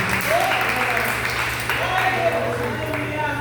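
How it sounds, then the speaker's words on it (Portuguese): Dense applause from a crowd fills the whole stretch, with a few voices calling out through the clapping. "Aplauda Jesus."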